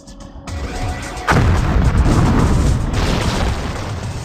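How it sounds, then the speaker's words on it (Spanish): A deep, loud blast from explosion welding erupts and rolls into a sustained roaring rumble, with no voices present. "la soldadura por explosión no es la única que es arriesgada"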